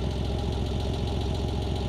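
A Porsche 911 3.2 flat-six engine idles with a steady, rumbling, evenly pulsing note, loud and close, with no talking.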